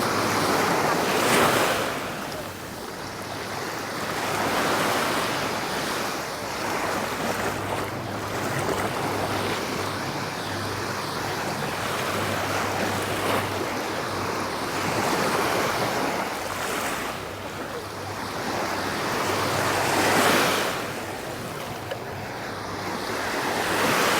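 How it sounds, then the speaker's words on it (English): Waves wash in and out on Lamai Beach, Koh Samui, surging in slow swells every few seconds with a steady hiss of surf and some wind buffeting the microphone, and no voices. "Just that silence and the noise of the water just coming in and out."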